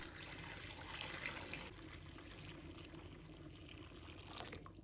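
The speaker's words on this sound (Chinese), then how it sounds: "再倒入开水" Boiling water poured into a bowl of sweet potatoes, a faint, steady splashing stream that is stronger at first and then settles into a softer trickle, quiet and close.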